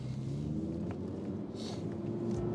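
Audi R8 V10+ engine giving a steady low rumble, close and continuous, with a brief rise in the upper range midway and no talk over it.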